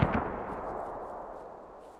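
A mortar round lands in the military shooter game Squad: one sharp, heavy boom hits at once, followed by a long rumbling tail that slowly fades, with faint crackle after the impact.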